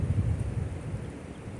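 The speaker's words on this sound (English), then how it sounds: "We're getting some of the wind in here now." Wind from an approaching storm front rushes past as a low, gusty rumble, loudest at first and then easing to a steadier broad whoosh over the short stretch.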